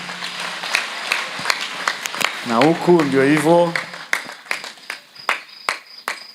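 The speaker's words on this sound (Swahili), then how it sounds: "Makofi kwao jamani." Audience clapping at a church gathering honoring CMF members, bursts of claps scattered through the clip, with someone speaking over it in the middle.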